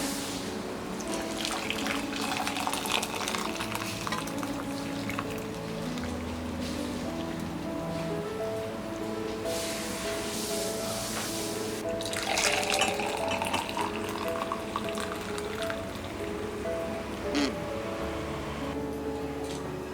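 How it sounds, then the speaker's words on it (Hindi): Homemade kadha, an herbal immunity drink, is poured through a strainer in a thin liquid trickle. Light clinks of utensils sit over a faint background hum, and a louder splash of pouring comes midway. "और इसे हम छान लेंगे।"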